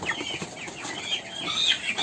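Young chickens on a small poultry farm cluck and peep in quick, irregular bursts, close and fairly loud, with brief rustling in between and no talking.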